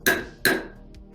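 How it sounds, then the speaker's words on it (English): Two sharp hammer slams as a sound effect, each a loud metallic bang with a ringing decay, struck about half a second apart, then a brief faint tick. "I just keep slamming that hammer"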